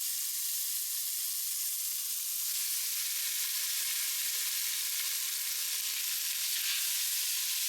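Cooked spaghetti being stirred with oil and spices in a Tefal Cook4Me pot, giving a steady, soft, continuous sizzling hiss with no talking.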